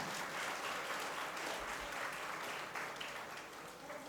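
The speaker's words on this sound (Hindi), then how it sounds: "ताली बजाओ बच्चे के लिए" A group of children claps for a classmate at a Jain lesson, with steady, moderately distant applause lasting several seconds and slowly fading toward the end.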